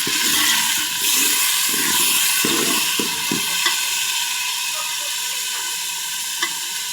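Onions frying loudly in a pan right after a splash of water, a steady close sizzle and hiss that runs throughout, with a few soft stirring scrapes underneath and no talk.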